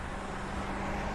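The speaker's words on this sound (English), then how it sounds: "The heavy traffic area" Heavy road traffic rumbles steadily in a busy area, a continuous wash of car and truck noise with no single vehicle standing out.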